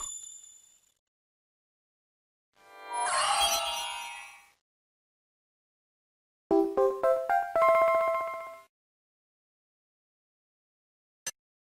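A short game phone jingle rings out twice with quiet gaps around it, first as a bright shimmering burst, then as a quick run of rising plucked tones. A tiny click follows near the end.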